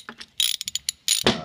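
A bolt is tightened with a ratchet while a seat belt is installed on a Club Car golf cart, giving several close, loud bursts of rapid pawl clicking separated by short pauses.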